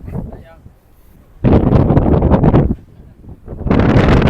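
Strong wind buffets the microphone at a Skywalk viewpoint above the meeting of the Khwae Yai and Khwae Noi rivers, with loud roaring gusts in two long bursts and a quieter rumble between them.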